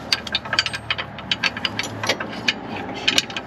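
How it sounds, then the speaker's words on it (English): A ratchet wrench turns a bolt during a homestead repair on a part broken on both sides, giving a run of quick, irregular mechanical clicks close by with no talking. "So I'll have to get my wrench for that."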